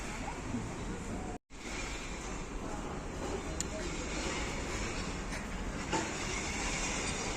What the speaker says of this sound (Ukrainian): Ось метро. Це метро Фуріо Каміло. Оранжева лінія, лінія А.